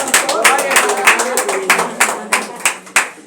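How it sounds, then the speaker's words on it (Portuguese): A church congregation claps during a worship service, with sharp, distinct hand claps in a loose rhythm at close range. They begin as a fuller burst and thin out to scattered claps. "aplausos a Jesus, igreja."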